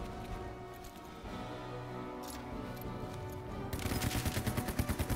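Gunfire in the World War II game Headquarters: World War II, a fairly quiet stretch of scattered sharp reports that shifts into a rapid, rhythmic burst of automatic fire toward the end.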